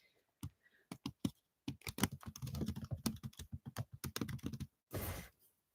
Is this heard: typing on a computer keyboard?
yes